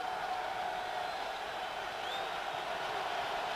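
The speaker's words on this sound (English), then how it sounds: "New England crowd making some noise as we come up on 8 minutes to play." A New England football crowd at a cold playoff game between the Patriots and Titans roars as a steady, distant wash of noise that stays level throughout, with no speech over it.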